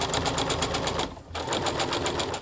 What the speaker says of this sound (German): nähen mit der Nähmaschine einmal ringsrum